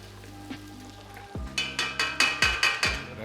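Seafood-boil seasonings and fresh garlic cooking in a hot pan, a soft sizzle broken by a quick, even run of about eight scraping strokes against the pan, close and fairly loud.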